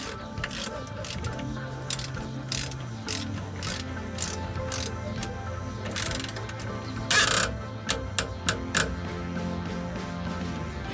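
A ratchet snugs the fuel filter drain back up on a 2017 Duramax 2500HD, a steady run of close, crisp clicks and pawl ticks over a low mechanical hum, ending in a few sharp taps.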